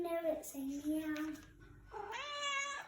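In a hunger-themed children's song, a singing voice imitates a cat, drawing out two gliding meows, the first wavering and the second rising, quiet and close.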